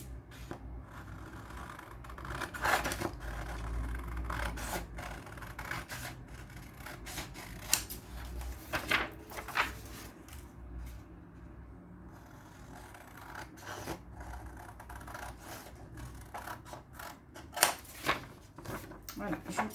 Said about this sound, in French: je coupe les 4 bords parce que je trouve que c'est pas joli